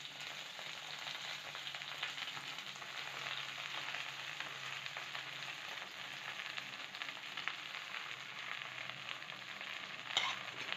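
Washed, dried gongura leaves sauté in a pan for pickle, giving a soft, even sizzle that holds steady throughout, with one brief louder scrape near the end.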